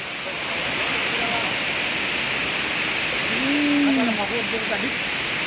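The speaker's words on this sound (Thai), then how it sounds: "ดูข้างล่างน้ำไหลเป็นชั้น ๆสวยจริงๆ" A tiered waterfall in Karen State pours in a steady, loud broadband rush that fills the scene, with a faint moo-like call rising briefly over the roar near the end.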